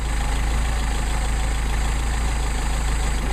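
A Mercedes 190SL with Solex carburetors idles close by, a steady low, even engine drone with a constant rhythmic pulse throughout and no talk.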